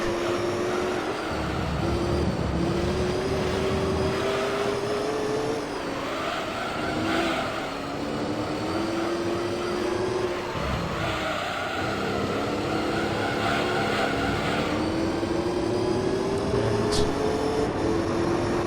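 A V8 supercar in Gran Turismo 3 races around Grand Valley, its engine droning and rising through gears in a steady, continuous whine with brief dips at shifts, a voice faintly over it.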